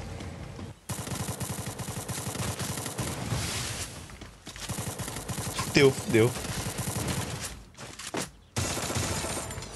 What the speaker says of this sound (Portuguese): O cara não para de atirar de jeito nenhum.